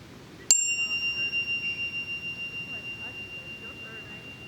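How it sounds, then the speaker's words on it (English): A single bell chime rung once in a quiet room, a sharp strike followed by a clear, pulsing ring that slowly fades over several seconds. "In a moment, you'll hear a bell chime."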